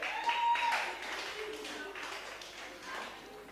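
Audience applause at a university debate championship grand finale as a recipient receives his certificate, a steady broadband patter of many hands that fades slightly, with a voice briefly audible over it.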